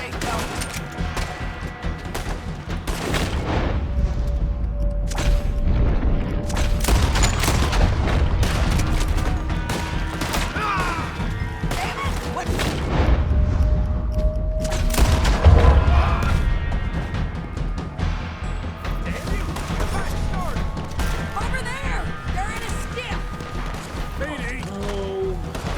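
Gunfire in the Red Dead Redemption 2 video game during a firefight, with dense volleys of sharp shots and heavy booms cracking almost constantly, loud and close, while voices talk intermittently.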